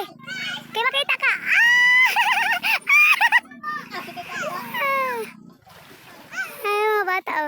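Children splash and shout while bathing in a river, with high excited voices and squeals over intermittent splashing nearby; an adult also speaks.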